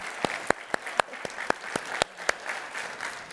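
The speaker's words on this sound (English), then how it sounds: "let's one more round of applause for Martha" An audience at an SXSW EDU keynote on teachers and AI in schools applauds for Martha, a steady wash of clapping with a few sharp nearby claps standing out, fairly soft and without talk.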